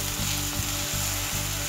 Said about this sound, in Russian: на подсолнечном масле жарим лучок